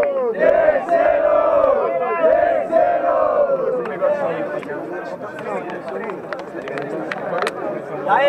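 Crowd at a student rap battle in Rio de Janeiro roars and shouts continuously, a loud dense cheer with a host's voice calling out over it.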